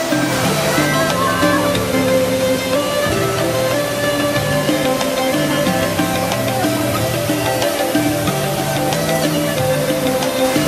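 A steady, dense rush of falling water from a waterfall at Pura Taman Pecampuhan Sala in Bangli, Bali, fills the air, loud and continuous without pause, sounding close by.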